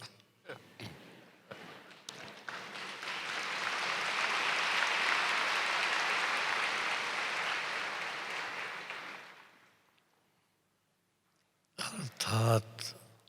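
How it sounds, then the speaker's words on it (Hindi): An audience at a spiritual gathering breaks into applause that swells, holds for several seconds and then fades. Brief talk and thumps come before it, and a voice follows after a short silence. "ताली बजा दी।"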